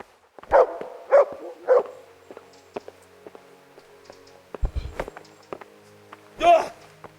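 A dog barks in the medieval role-playing game Kingdom Come: Deliverance, with three quick barks close together, then a lone bark a few seconds later, and soft footsteps and thuds of game activity in between.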